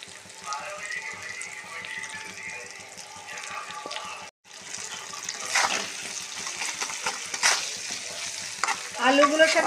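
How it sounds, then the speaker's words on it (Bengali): Potatoes and chopped onions frying in a pan make a continuous close sizzle with stirring scrapes and a short break midway, while a voice talks intermittently in the background. "আলুগুলোর সাথে পেঁয়াজগুলোও ভাজা হয়ে গেল একেবারে"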